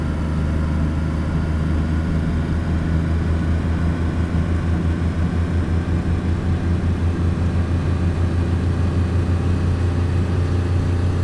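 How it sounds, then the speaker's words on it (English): A car engine in the DayZ video game, with a 4-speed gearbox, runs near redline as a loud, steady droning hum with a strong low throb, continuous and without talk. "The engine's not liking it."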